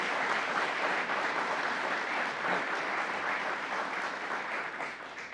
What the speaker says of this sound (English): Let's give all the members of law enforcement a round of applause